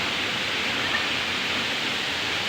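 Broad, steady rushing roar of Inambakan Falls, a waterfall in Ginatilan, Cebu, filling the scene evenly without a break for the whole stretch, loud and close.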